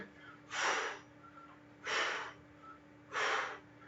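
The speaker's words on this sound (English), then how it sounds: "We're breathing, forcing that air out." A person breathes out forcefully during an exercise, three evenly spaced, breathy, rushing exhales about every 1.3 seconds, close and clear with near silence between them.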